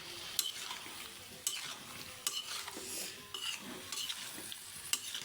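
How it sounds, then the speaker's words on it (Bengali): Boiled potato is stirred into a frying fish curry with tomato and eggplant, a soft sizzle under regular spatula scrapes and clinks against the pan, about one stroke each second, close and fairly quiet. "সিদ্ধ করা আলুটা দিয়ে দিচ্ছি।"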